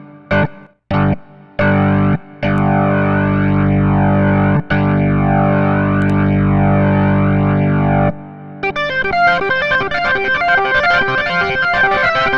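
A VB3 II 2023 Edition virtual tonewheel organ from Genuine Soundware, run through a limiter and reverb, holds a loud, distorted sustained chord broken by short stabs, then shifts into brighter, busy rhythmic playing.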